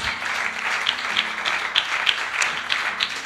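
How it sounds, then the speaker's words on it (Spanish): Church congregation applauds during a sermon, a fairly quiet, distant patter of clapping with a few sharper claps rising above a low steady hum. "¿Puede darle un aplauso a Dios?"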